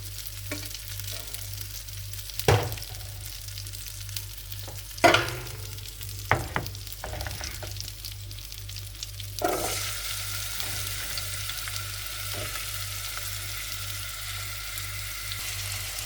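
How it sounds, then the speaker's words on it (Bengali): Silver carp sizzles in hot oil while being cooked with black cumin, a steady hiss broken by a few sharp knocks of a utensil against the pan, and the sizzle grows brighter and louder in the second half. No one speaks. "মাছটা ভাজি হয়ে গেছে"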